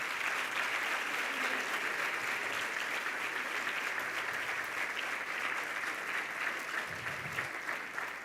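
A church congregation applauds together during a Spanish-language sermon, a steady, dense wash of clapping that holds at even strength for several seconds with no voices over it.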